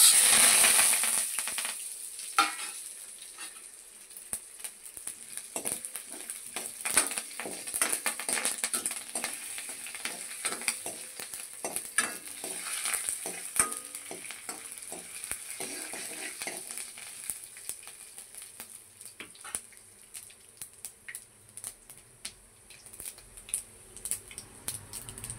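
Tempering spices (mustard seeds, cumin, urad dal, chana dal) and curry leaves frying in hot oil, a loud initial crackle settling into a dense spattering popping sizzle, no voices.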